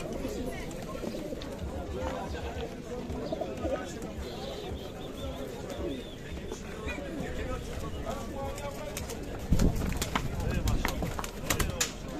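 Mardin pigeons coo among the steady bustle of an outdoor bird market at Edirnekapı, with crowd chatter and voices running throughout and a louder burst of activity near the end.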